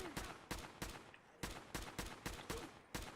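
A SCAR LK semi-automatic rifle fires in Fallout 4, about ten sharp, loud single shots in an uneven rhythm, each with a short decaying tail.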